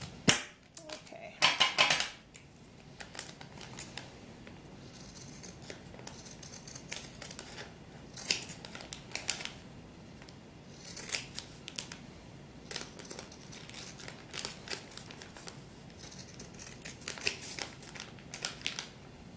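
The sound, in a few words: scissors cutting sheepskin for a doll vest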